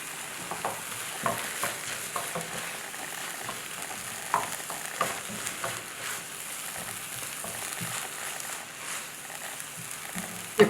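Canned corned beef and tomatoes sizzle and crackle in a pan, with a steady low frying hiss broken by scattered pops and the scrape of stirring.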